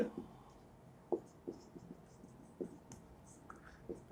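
Chalk or marker strokes on a board in a physics lecture, a sparse series of faint short scratches and taps at irregular intervals over a quiet room, with no talking.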